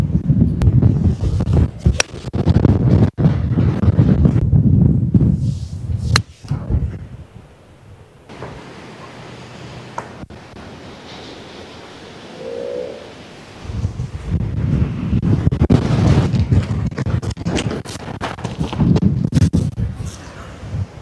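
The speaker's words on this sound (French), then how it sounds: "Qu'est-ce que c'est que ce vent de l'enfer?" Strong wind buffets the microphone in heavy, gusting bursts on a golf course near Aix-Marseille, with a quieter lull in the middle before the roaring gusts return.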